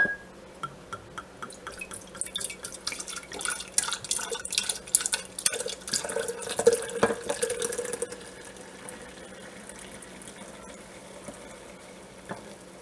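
Liquid pours in an uneven, splashing stream into a jar, fading to soft trickles and drips near the end; close and fairly quiet, while making kombucha.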